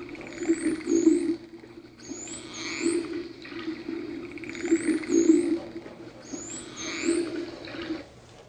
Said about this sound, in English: each dolphin has a unique signature whistle